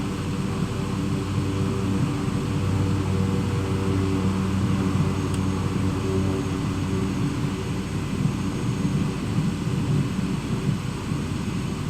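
A small airplane's engine during the takeoff roll: a steady, loud, droning roar with rumbling lows and broadband noise, holding evenly throughout without any speech.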